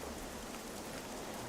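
Steady rainfall in the video game Gothic 1 Remake, a dense continuous hiss of drops on surfaces, loud and even throughout, with no talk.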